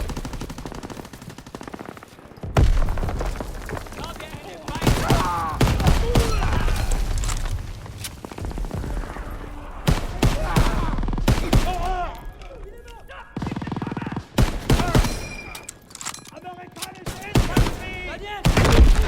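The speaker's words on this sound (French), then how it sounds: "Lance une grenade dans ce bunker!" World War II video game battle at Omaha Beach with dense machine-gun bursts, rifle shots and booming blasts from a grenade and artillery, loud and near, with soldiers shouting in French over the combat.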